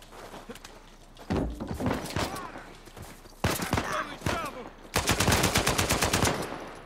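Gunfire in the video game Uncharted 4, with sniper shots and bursts of automatic fire cracking out in several loud volleys, including a fast rapid-fire burst near the end.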